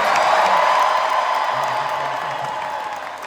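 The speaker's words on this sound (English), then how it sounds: "we're gonna have to hear a loud applause" The D23 audience at a Disney showcase in Anaheim applauds and cheers in a dense, sustained wash of clapping that slowly fades, with a voice briefly speaking over it.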